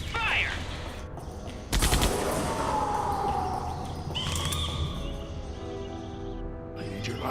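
Gunfire in Jurassic Park: The Game, a heavy volley of loud, sharp shots bursting out, followed by a ringing, whistling tone and further scattered cracks, with voices faintly mixed in.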